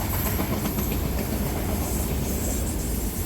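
A Norfolk Southern freight train passes close by, with a dense, constant roar of rolling wagons, rail rumble and faint clickety-clack from manifest cars, trash cars and auto racks, and no voices.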